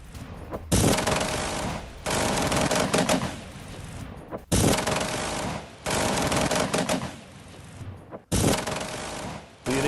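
Heavy sustained gunfire and air defense fire during an attack on the Black Sea Fleet, loud dense bursts of rapid shots lasting a second or two each, broken by brief gaps, with no talk.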